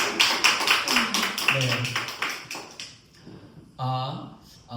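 Applause breaks out in a church congregation during a Sunday worship service, a burst of claps with sharp transients in the opening seconds that fades out, while voices and singing-like tones carry underneath.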